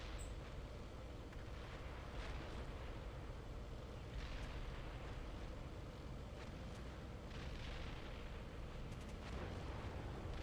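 Artillery fire in the tank simulator Steel Beasts Pro PE, heard as a steady roar of distant rumbling blasts with a few sharper booms breaking through over about ten seconds, no talk.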